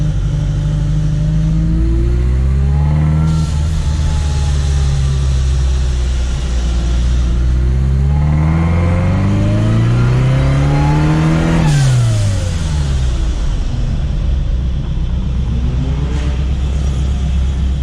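A supercharged Chevrolet Chevette engine revs up repeatedly, its pitch climbing and falling in loud, close surges, with a steady idle rumble in between.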